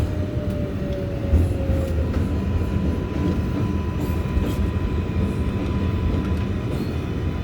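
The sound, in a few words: NYC subway R142A 6 train running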